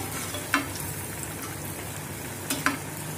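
Aloo laccha tikki, shredded potato patties, shallow-frying in a pan over a low gas flame, giving a steady close sizzle broken by a few sharp oil pops.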